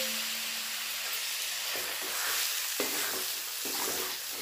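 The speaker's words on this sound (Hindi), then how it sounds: "और धीमी आंच में हम मसालों को पका लेंगे।" Spices and green peas cooking on a low flame in a pan for matar ka nimona, a steady close sizzle and hiss with a few soft stirring scrapes and no voices.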